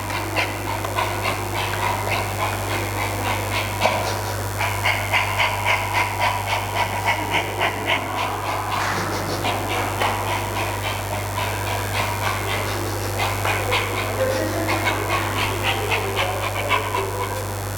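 A dog being walked on a house lawn pants rapidly and rhythmically nearby, with occasional faint whimpers, over a constant low electrical hum.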